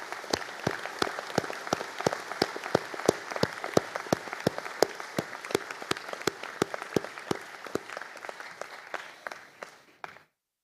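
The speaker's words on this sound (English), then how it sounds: "So if you could please be upstanding, we'll give a round of applause." Audience at a graduation conferring ceremony applauds steadily, dense clapping holding for about ten seconds before stopping abruptly, with no talk over it.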